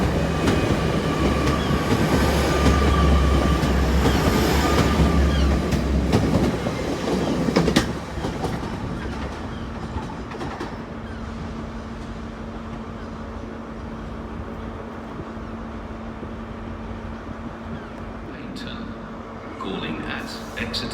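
Train at Exeter St David's station with three coaches: a loud rumble and clatter of wheels for the first several seconds, then a quieter idling hum on the platform, with voices talking throughout.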